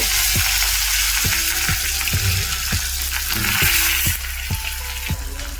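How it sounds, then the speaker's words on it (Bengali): Curry leaves hit hot oil already holding dried chilli, urad dal and asafoetida for suji upma, a loud close crackling sizzle with regular spatter pops throughout, settling a little toward the end. "এর মধ্যে এবার কারি পাতা অ্যাড করব"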